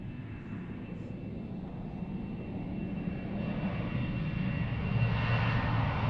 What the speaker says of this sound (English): TP 494 is off to Toulouse, and we're looking at an Embraer again.